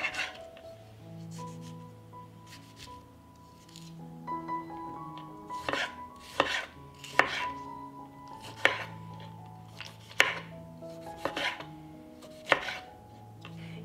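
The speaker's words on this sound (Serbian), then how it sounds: "I na kraju ću iseckati paradajz." Tomatoes are chopped with a knife on a board, a dozen or so crisp, close knocks coming in an uneven rhythm with short pauses, over a quiet background of soft music.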